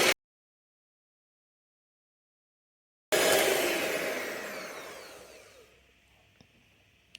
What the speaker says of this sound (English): Next, you want to whisk your egg whites to stiff peaks.